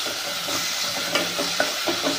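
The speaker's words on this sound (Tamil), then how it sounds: "இந்த வெங்காயம் நல்லா வதங்கட்டும்." Onions sautéing with chicken in a pan for chicken masala, a continuous close sizzle with a few soft stirring scrapes toward the end.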